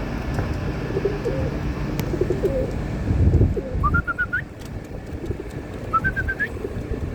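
Pigeons waiting to be fed at an offshore site coo softly in a low, steady murmur, with a few brighter bird calls rising above the flock noise in short rising phrases.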